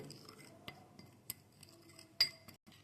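A spoon clinks against a bowl while a rice flour and coconut oil face pack is stirred, giving sparse, light taps and scrapes with one sharper clink near the end, quiet and close.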